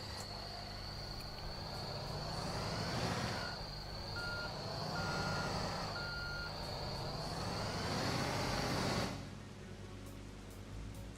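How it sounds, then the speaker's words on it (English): Dump truck in Construction Simulator 2 reversing, its steady high-pitched backup beeper sounding continuously for about nine seconds over a rumbling engine that rises and falls, then the beeping stops while the engine idles on. "Switch to the dump truck"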